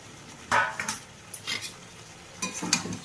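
Cauliflower, mushroom and potato stir-fry with spices in a pan, a spatula scraping and knocking in a few irregular strokes over a faint sizzle.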